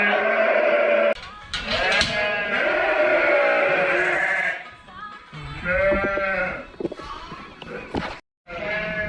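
Several lambs bleat repeatedly at close range, calls overlapping in bursts with short gaps between them.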